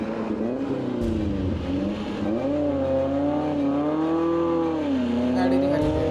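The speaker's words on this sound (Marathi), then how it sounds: "गाडी निघालेली आहे." A 4x4 off-road vehicle on an extreme mud course accelerates and revs, its engine rising and falling in pitch loudly and steadily throughout, with people talking nearby.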